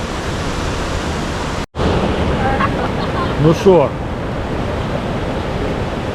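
Stormy sea surf breaking on the shore at Galveston, Texas, in February, a steady loud wash of waves and wind roaring against the microphone, with a brief dropout and a man's short remark partway through.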